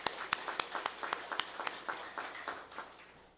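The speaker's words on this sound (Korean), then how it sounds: "우리 모두 축복의 박수를 쳐주시기 바랍니다." Congregation clapping in blessing during a Korean Methodist Sunday service, a run of distinct claps in a loose rhythm that thins out and fades within a few seconds.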